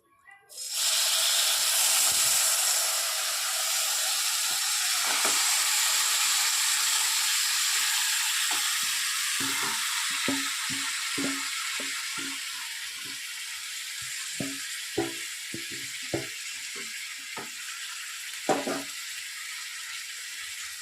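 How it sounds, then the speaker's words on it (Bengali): Marinated chicken dropped into a hot kadai of oil over high flame gives a loud, steady broadband sizzle. The sizzle sets in within a second, holds throughout and is punctuated later by scattered sharp pops and taps. "শুধু কড়াইটা গরম হয়ে গেলে মাংসটা এর মধ্যে ছেড়ে দেবো।"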